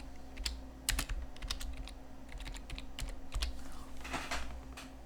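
Keystrokes on a computer keyboard entering a username during a Debian 13 server install, a close, irregular run of crisp clicks in short bursts with brief pauses and no talking.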